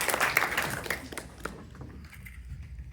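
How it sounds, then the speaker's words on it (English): An audience applauds a panel at a climate change communication event during NYC Climate Week, a dense wash of clapping that is loudest at first and thins out and fades after about a second and a half. "please give a round of applause to our first panel"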